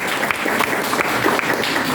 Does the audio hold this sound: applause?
yes